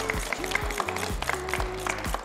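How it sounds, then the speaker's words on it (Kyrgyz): Studio audience clapping to welcome a contestant on a Kyrgyz TV show, a brief burst of applause at moderate level with a voice and musical tones layered over it. "Калык мырзаны колчоолор менен тосуп алалы."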